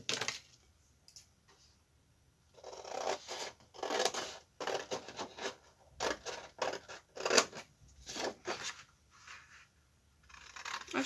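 Scissors cut through card for a simple handmade greeting card in quick bursts of crisp snips, with short quiet pauses between the runs of cuts, close and with no one speaking.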